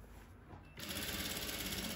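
A straight-stitch sewing machine runs a seam on a dress with lastex elastic, starting up and humming at a steady rapid rhythm, close by, with no voices.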